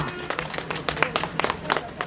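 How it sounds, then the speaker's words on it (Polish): An audience claps at a youth running-race awards ceremony at the Wiązów half marathon, producing a scattered patter of hand claps that rises and falls in uneven bursts, at moderate volume from a modest crowd. "Gorące brawa."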